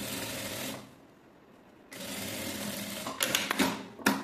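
A sewing machine runs a safety seam along a zipper on a two-pocket fabric box, with a sustained close whir, a brief pause, a second run, then a few sharp clicks as it stops.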